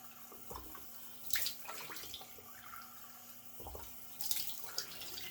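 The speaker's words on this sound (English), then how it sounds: "let me get my face cooled down with some cold tap water" Cold water running from a bathroom tap into a sink, a faint steady trickle with a few louder splashes and sloshes as hands dip into the stream.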